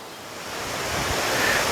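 A river in Veracruz, Mexico rushes steadily, a broad continuous wash of flowing water with faint wind noise, swelling slightly louder as it goes on.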